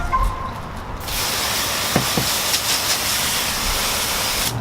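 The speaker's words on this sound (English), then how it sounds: "We'll grab our hose here, spray it off." Garden hose spraying water onto the wheel of a Dodge Dart, a steady loud hiss of spray that starts abruptly after a second and continues evenly, with a couple of faint knocks and no talk.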